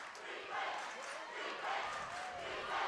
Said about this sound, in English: We hear the crowd chanting defense.